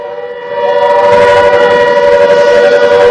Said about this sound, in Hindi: देखिए आप सुनिए, सायरन बजना शुरू हो गया है